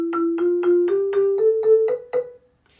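Marimba pattern sequenced in music software, nine evenly spaced mallet notes in a gently rising line, clean and close, ending in a short decay with no voices.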